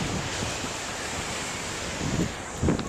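Surf rolls in steadily at the beach on Tybee Island while wind buffets the microphone, with a couple of slightly louder wave surges near the end and no voices.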